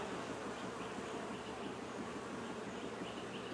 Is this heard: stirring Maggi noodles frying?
no